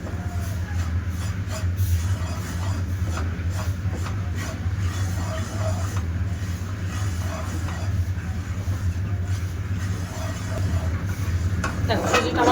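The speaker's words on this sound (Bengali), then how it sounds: "এবার সুজিটা আমি ভাজা করে নেব" Semolina roasts in ghee in a pan, a continuous low frying hiss with repeated soft scraping and stirring strokes running steadily throughout.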